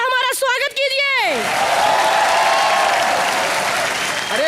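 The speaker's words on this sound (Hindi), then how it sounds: "चलिए एक बार जोरदार तालियों से हमारा स्वागत कीजिए" Studio audience on an Indian TV comedy show bursts into loud, sustained applause and cheering, a dense wall of clapping that swells right after a short sung or spoken phrase and holds steady to the end.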